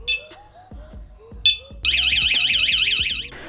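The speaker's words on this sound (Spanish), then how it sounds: "Ahí se está activando en este momento la alarma." A Lince Cplus lock cylinder alarm gives a few short beeps and chirps, then bursts into a loud, warbling electronic siren close by for over a second before cutting off.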